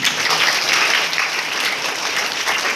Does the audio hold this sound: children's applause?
yes